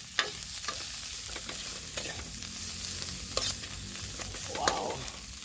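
Smoked fish (tinapa) frying in a pan alongside cassava leaves, a steady close sizzle with scattered scrapes and clinks of stirring and no voices.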